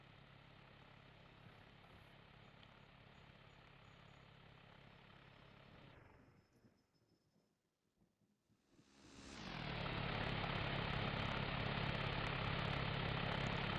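Engine of a Wilga four-seat tow plane in the Condor 3 flight simulator, a steady droning propeller note that cuts out into near silence, then roars back loud and sustained.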